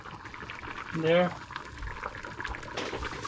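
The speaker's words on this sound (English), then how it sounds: "So our curry is bubbling away" Channa and potato curry bubbles steadily in a pot, a close, continuous simmering burble with a brief voice speaking partway through.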